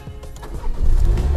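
A Mini Cooper John Cooper Works with its stock exhaust fires up, a low rumble rising into a loud, deep roar that builds and holds, close by, with no talking.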